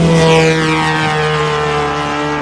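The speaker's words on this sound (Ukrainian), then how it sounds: "це безпілотник" An attack drone flying overhead with a loud, steady droning propeller-engine buzz that holds close and constant throughout, without speech.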